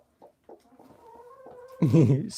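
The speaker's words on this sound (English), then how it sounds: "She just starts clucking." A hen clucks softly in short, separate notes, then breaks into a louder, drawn-out run of clucking at the end.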